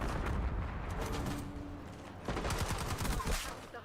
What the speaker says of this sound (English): Just slid into a grenade